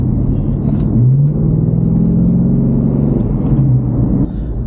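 A Jeep engine revs up loud and close, a deep rumbling roar swelling into a sustained acceleration with a rising drone, then easing off near the end.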